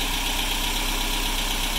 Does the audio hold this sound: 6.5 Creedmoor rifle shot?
no